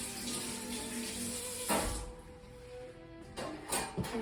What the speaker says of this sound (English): so I can now wash that knife